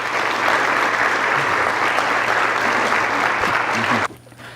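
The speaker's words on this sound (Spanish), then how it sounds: "denle un aplauso a Jesucristo" A church congregation bursts into sustained, dense applause for several seconds during a Spanish-language worship service; the clapping is loud and steady, then cuts off abruptly near the end, leaving a quieter room.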